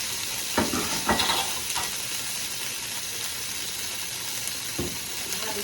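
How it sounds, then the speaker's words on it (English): Pak choy sautes in a hot pan for chicken chow mein, a steady close sizzle with occasional light scrapes and knocks of a utensil against the pan. "Saute the pak choy"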